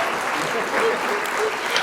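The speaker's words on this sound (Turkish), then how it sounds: "Harikayım bana koca bir alkış." Studio audience clapping for a contestant in a Turkish quiz challenge game show, a steady dense patter lasting a couple of seconds with voices mixed in.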